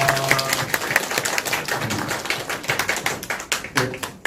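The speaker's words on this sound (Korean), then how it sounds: "잠깐만 일어서시면 우리 박수로 환영하겠습니다" A church congregation at a Sunday worship service claps steadily to welcome a new member, a dense run of hand claps lasting several seconds with no talking.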